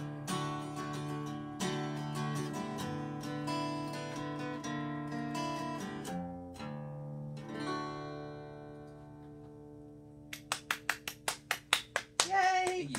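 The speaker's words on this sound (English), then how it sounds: "Jackie clapping along with the large crowd that we have in the audience" Sustained piano and sung chords of a live song at a small gathering give way near the end to a short burst of close, sharp hand claps, a few people clapping rather than a large crowd.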